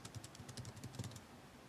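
Quick, light keystrokes on a computer keyboard while entering a search in a bioinformatics web tool, an uneven run of soft clicks that stays faint and close throughout.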